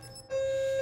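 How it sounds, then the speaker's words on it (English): An electronic fire alarm sounding a steady, piercing single-pitch tone that starts abruptly and holds, heard indoors at moderate volume. "I'm sorry about the fire alarm."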